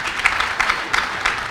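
An audience at a Taraba State stakeholders' interactive session claps, producing a modest, uneven patter with a few louder pulses and no talking over it.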